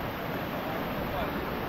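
Strong, swollen water current rushing at a coastal creek where crab traps are set, a steady broadband roar with wind buffeting the microphone, loud and unbroken throughout.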